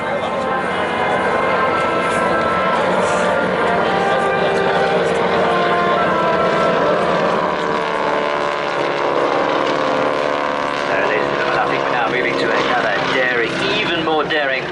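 An aircraft carrying wing walkers performs at a seaside air festival, its steady engine drone loud and continuous throughout while a commentator talks over it.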